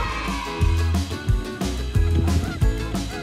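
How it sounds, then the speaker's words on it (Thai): Waterfowl at Yellowstone National Park give loud, close honking calls, several in a row in an irregular rhythm, with no talk over them. "มีนกอยู่ตรงนู้นด้วยนกเป็ดน้ำ"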